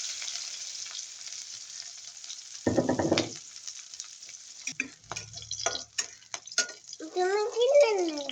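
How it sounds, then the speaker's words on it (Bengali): Onion and garlic sizzle in mustard oil in a wok as rice frying begins, with a steady hiss and a burst of louder crackling. Voices and a child's chatter come in toward the end. "ভাত ভাজি করার জন্য কড়াইয়ের মধ্যে তেল দিয়ে দিচ্ছি, পেঁয়াজ রসুন দিয়ে দিলাম।"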